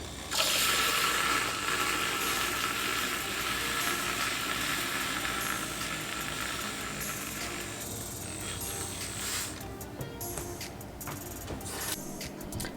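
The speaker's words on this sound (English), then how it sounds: "I have a little handheld stick frother, so we're just going to do that." A small handheld stick milk frother whirs as it froths half and half, a steady buzzing hiss running for about nine seconds before breaking into short stuttering bursts as it stops.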